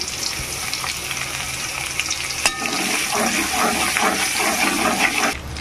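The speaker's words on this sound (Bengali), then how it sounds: "পেঁয়াজ মরিচ আর রসুন একসঙ্গে ভালো করে ভাজতে হবে, ভেজে নেব।" Garlic, onion and chilli fry in hot oil in a kadai, giving a steady close sizzle with a brief clink partway through and a short stir-and-scrape sound near the end.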